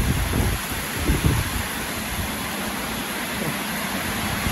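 Steady, hissing rain pours through a thunderstorm, with a low rumble of thunder swelling in the first second or so and then fading into continuous downpour.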